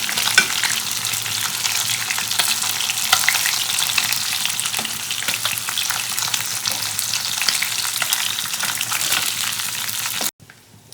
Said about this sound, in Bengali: এরপরে বাদ বাকি মাছগুলো ভেজে নিচ্ছি